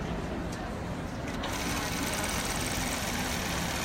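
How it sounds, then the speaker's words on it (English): A Gammill longarm quilting sewing machine runs steadily through straight stitching, a continuous close mechanical whir and rapid needle chatter with no pauses across the whole stretch. "I'm going to do some straight stitching."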